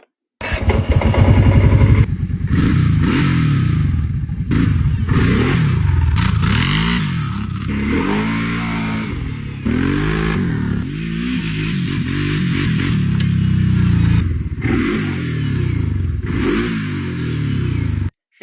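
Kawasaki Brute Force 750 ATV engine starting and running after a new pump was fitted, loud and close, revving up and down repeatedly between idle stretches with no talk.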